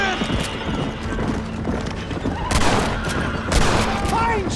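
Gunfire rings out in Red Dead Redemption amid a Western scene, with sharp loud shots landing around midway and again later over clopping horse hooves, a whinny and game voices.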